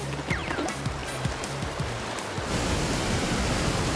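Cartoon waterfall from the animated series PAW Patrol, a broad steady rushing roar that swells louder after a brief lead-in with some splashy clicks.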